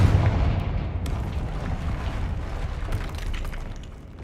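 Confringo blasting curse going off in Hogwarts Legacy: a loud, dense booming blast that rumbles on with crackling debris for several seconds before fading, with no talk over it.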